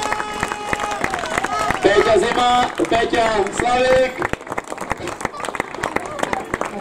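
Applause at a football tournament awards ceremony for FK Přelouč at Újezd Cup 2018, with crowd clapping building and fading in bursts while someone speaks over a PA system and names are read out.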